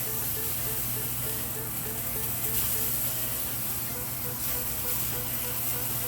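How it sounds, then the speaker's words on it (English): Homemade deer sausage searing in a pan, a steady broadband sizzle with fine crackling running continuously and fairly loud throughout. "all I'm trying to get is some browning on the outside and sear it a bit"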